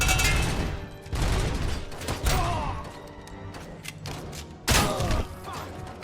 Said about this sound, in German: Da wirft jemand wieder mit Granaten.